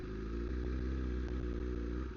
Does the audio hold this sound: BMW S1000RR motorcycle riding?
yes